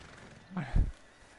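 A horse neighs in Red Dead Redemption 2, a single short whinny rising to a loud burst in the middle of a quiet game scene.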